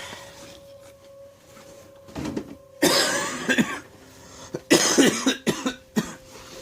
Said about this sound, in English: Please excuse the cough, I am recovering from bronchitis.